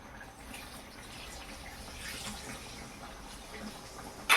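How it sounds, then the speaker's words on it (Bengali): A bowl of vinegar poured into raw mango pickle that has sugar in it: a faint, steady liquid trickle lasting a few seconds, close and quiet, ending in a short clink. "এবারে আমি ভিনিগারটা দিয়ে দেব।"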